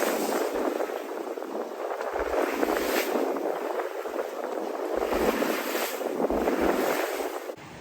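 A sailboat named Pickle, fitted with new Rolly Tasker sails, makes about five knots on a starboard tack through choppy water off Malta. Waves splash and rush steadily under strong wind buffeting the microphone, with no talking.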